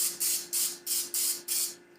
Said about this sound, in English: Some things said don't spray directly into the pan or the thing, but I've been doing that.